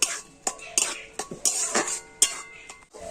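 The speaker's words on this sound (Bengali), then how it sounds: "এখন আমি নাড়াচাড়া করে চিড়েটা কিন্তু সম্পূর্ণভাবে একদম নরম করে নেব" Flattened rice (chira) is stirred in a pan with a spoon, giving a quick run of close, sharp scrapes and clinks against the metal at an uneven rhythm over a few seconds, with no talking.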